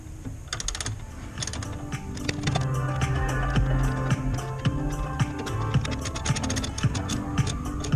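Mechanical work on a 1967 MGB Mk1 brake master cylinder as a bolt is tightened: a dense run of rapid metallic clicks and ratcheting ticks, close and steady, with no talking.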